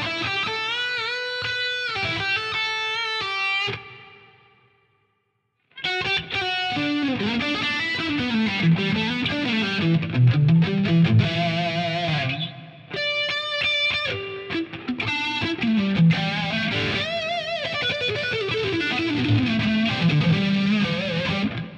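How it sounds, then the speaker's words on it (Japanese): An electric guitar plays a high-gain Friedman Modern Lead patch on a Line 6 Helix with plain reverb added: distorted lead lines and chords, a short break into near silence, then sustained soaring bends, loud and alone. "次はいわゆる普通のリバーブを加えます。"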